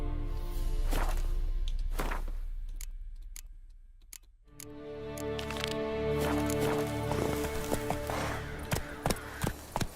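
Roach, Geralt's horse in The Witcher 3: Wild Hunt, walks along with steady, rhythmic hoof clops that grow clearer toward the end, set against sustained game music and ambience.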